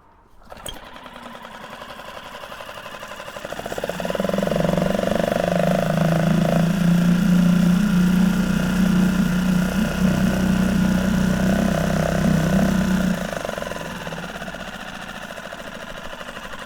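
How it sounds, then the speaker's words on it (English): A small Yamaha 6HP outboard motor is pull-started; it cranks and catches, then settles into a steady, buzzing idle close by for several seconds before easing down. "now I just need to give this a pull to get the outboard started"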